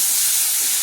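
Shrimp frying in a pan gives off a steady, bright sizzling hiss, close and even, with no talk over it.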